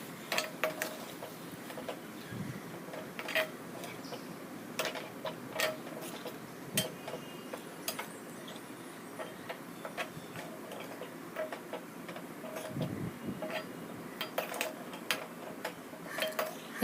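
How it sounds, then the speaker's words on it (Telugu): Cooked rice is mixed in a pan for tomato rice: a spoon gives repeated light clicks and scrapes against the metal at an uneven pace, fairly close and quiet, over a low background hum. "ఇప్పుడు మనం ఉడికించి పెట్టుకున్న రైస్ని ఇందులో వేసుకొని బాగా మిక్స్ చేసుకోవాలి."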